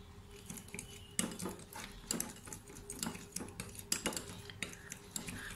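A spoon stirring honey into aloe vera gel in a small bowl, a quiet, quick run of clinking and scraping taps against the dish.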